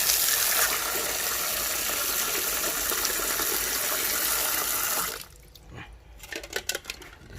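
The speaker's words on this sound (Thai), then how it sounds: "เอาน้ำห้อนออก เอาน้ำเย็นลง" Cold water gushes steadily into a bowl of boiled eggs for about five seconds, then cuts off, leaving light drips and small splashes and clinks close by.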